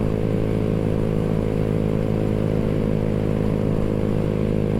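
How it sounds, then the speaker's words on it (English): A Honda Grom motorcycle runs at wide open throttle at about 57 to 60 mph into a headwind, its engine drone steady and loud throughout, with wind rush and some clatter, no talk. "this bike, I'm going wide open throttle."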